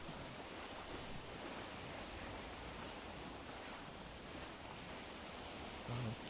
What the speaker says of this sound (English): simulated waves and spray and all that kind of stuff, and rocking, modelled on real life